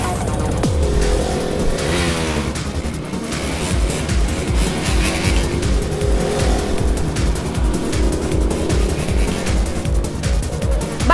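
A motorbike ridden fast, its engine roaring loud and close throughout with steady revving and a brief whine of tires, under a dense continuous mix of noise.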